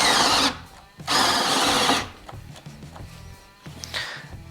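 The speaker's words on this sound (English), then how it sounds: "We'll drill a couple holes real quick, show you what that looks like here." A Ryobi 18V ONE+ compact drill running a paddle bit into a 2x4 roars in two loud bursts of about half a second and a second. Quieter knocks and handling noises follow.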